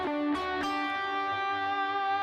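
Electric guitar played through a pure booster pedal switched on, a sustained chord ringing out with a couple of soft pick strums at the start, slightly driven tone and moderately quiet.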